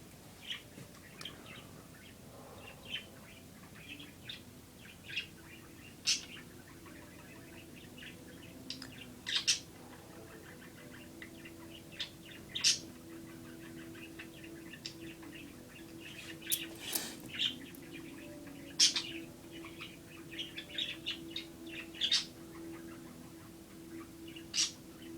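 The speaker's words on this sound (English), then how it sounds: "Thank you, I appreciate that chirp." Small birds chirp intermittently, with scattered short tweets and calls popping out at irregular intervals over a quiet, faint background hum.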